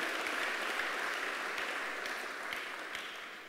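A church congregation at a Sunday service applauds, a steady wash of many hands clapping at moderate level that fades slightly toward the end.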